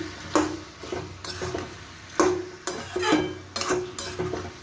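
Spices for a banana flower curry sizzle gently in a pan while a spoon or spatula scrapes and stirs them in irregular, clattering strokes, close up with no talking.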